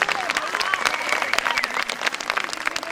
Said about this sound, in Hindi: तालियों की गूंज से तो लगता है